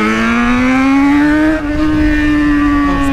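Engine revving as a vehicle climbs through the gears on a road, a loud steady rising whine close by with a brief dip midway, no voices.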